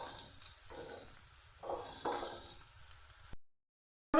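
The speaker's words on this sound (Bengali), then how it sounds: "আমার ফুলকপি ভাজা হয়ে গেছে, ফুলকপি কালার ধরে নিয়েছে" Cauliflower florets frying in mustard oil in a kadai, a steady close sizzle with a few brief bursts of stirring before the sound cuts to silence.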